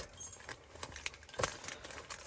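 Car keys jangle in brief, faint metallic clinks and rattles with a louder jingle midway, close by and unaccompanied by talk.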